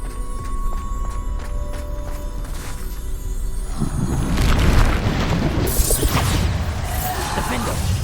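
Bombarda spell blasts going off in the Hogwarts Legacy video game, a dense rumbling explosion that builds after a steady mechanical background and stays loud with crashing debris through the end.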